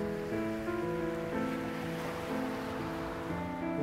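Waves washing onto a beach, a continuous rushing surf at moderate level with steady tonal music layered over it and no speech.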